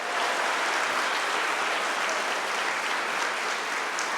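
An audience at a TEDx event inside Attica prison gives a round of applause, a dense, even wash of many hands clapping, steady from start to finish and heard from within the room.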